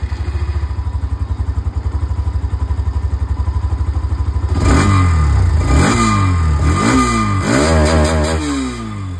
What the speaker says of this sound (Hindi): इस बाइक की जो एग्जॉस्ट साउंड है वो भी यहाँ पर सुना देता हूँ